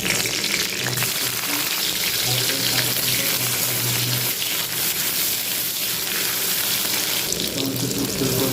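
Green chillies fry in hot oil in a kadai, making a loud, dense, unbroken sizzle that stays constant and close throughout.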